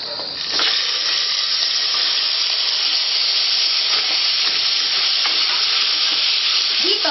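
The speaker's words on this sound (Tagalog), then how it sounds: "First, saute the fish." Fish sautéing in hot olive oil, a loud continuous sizzle with scattered crackles and spatter as pieces hit the pan and get stirred, with no talking.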